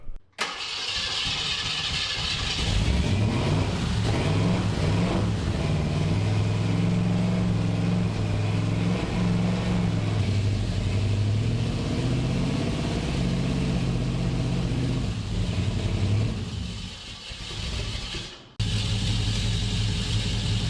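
A long-stored, previously seized Jeep Grand Wagoneer engine running steadily for about eighteen seconds with a rough mid-range rumble, cutting out briefly near the end before catching again, with no talking.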